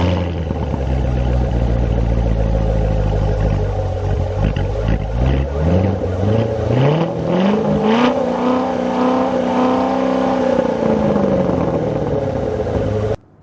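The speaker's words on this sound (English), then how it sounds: "let me give it a start, and you can listen and hear for yourself what the Performance Exhaust sounds like on this vehicle" A Chevrolet C7 Corvette with a performance exhaust fires up and revs, its deep rumble climbing through a sweeping rise and holding a loud, raspy drone before cutting off abruptly, close and alone.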